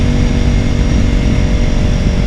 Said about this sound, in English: the RPM's going sort of back and forth a little bit, which is normal on these bikes